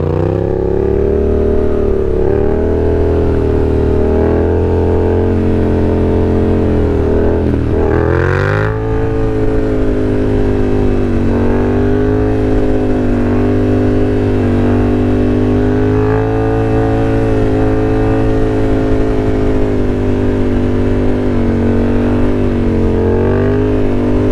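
A Yamaha FZ-07 motorcycle revs hard during wheelies, its loud, close engine drone holding steady and then surging in pitch through several throttle bursts, with no talking.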